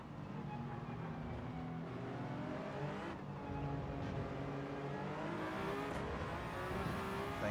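A Ferrari race car in an endurance championship race at Fuji drones steadily throughout, its engine note shifting with gear changes, with other track noise mixed in and no clear drop-off.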